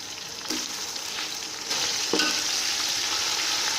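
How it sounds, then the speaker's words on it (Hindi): Tomatoes with ginger-garlic paste frying among browned onions for chicken pulao, a steady dense sizzle with two soft stirring scrapes, growing louder when more ingredients hit the pan. "टमाटर हमने डाल दिए हैं। अब थोड़ी देर इन्हें फ्राई करेंगे।"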